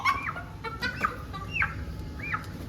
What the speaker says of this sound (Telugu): ఒకటి నాటుకోడి, ఇంకోటి నార్మల్ బైలర్ కోడి